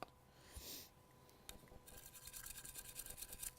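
A small cleaning brush scrubs inside a shotgun's action toward the rear, where debris builds up. A brief quiet scrape comes first, then a rapid run of soft, close bristle strokes through the second half.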